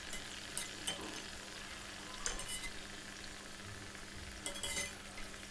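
A crunchy urad dal snack deep-fries in hot oil, giving a steady, quiet bubbling hiss with occasional louder bursts of crackle and a faint clink of a utensil, over a low background hum.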